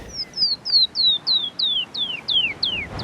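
A Wilson's snipe in the Pacific Northwest calls a rapid series of about ten thin, descending whistled notes, evenly spaced and clear above faint background hiss.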